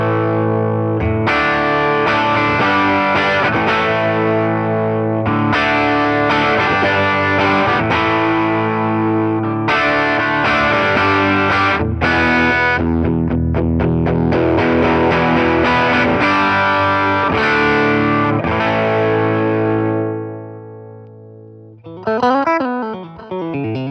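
Heavily distorted electric guitar chords ring out loud and thick through a Fender Tone Master Twin Reverb amp, strummed in repeated sustained phrases, ending with a brief warbling squeal.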